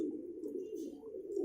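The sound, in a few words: pigeons cooing in a loft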